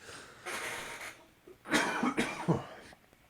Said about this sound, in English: I can't stop coughing right now.